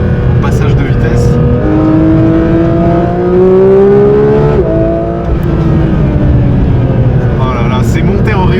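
Porsche 911 992 GT3 RS engine revving hard and climbing in pitch, then a quick gear change drops the note before it climbs again, loud in-cabin roar throughout.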